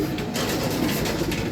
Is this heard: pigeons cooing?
yes